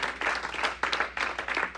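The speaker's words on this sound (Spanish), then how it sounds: "No sé si le da un aplauso al Señor" A church congregation claps briefly in uneven, overlapping bursts, moderately loud in a reverberant hall.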